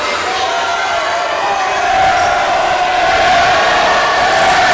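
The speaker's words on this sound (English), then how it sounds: "Crowd's already chanting air ball" A loud basketball crowd roars continuously throughout in a college gym during Heidelberg at Wilmington, the dense chant swelling slightly toward the end with no clear individual voices.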